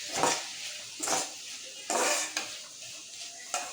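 Onions with curry leaves are stirred in a pan, a ladle scraping and clinking against the metal in several separate strokes over a soft background sizzle, close and fairly quiet.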